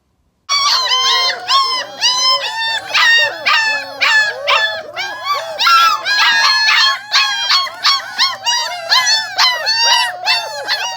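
A puppy yaps and howls continuously in high, wavering cries, close by and loud, with no talking.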